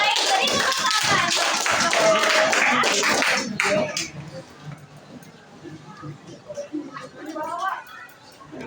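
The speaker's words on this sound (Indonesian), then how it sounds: "Beri tepuk tangan." A classroom group claps for Ariel's group as they come forward, a short burst of close, sharp clapping that fades after a few seconds into murmuring voices and light movement.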